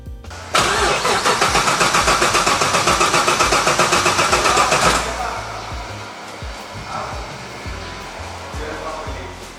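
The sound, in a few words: car engine cranking and starting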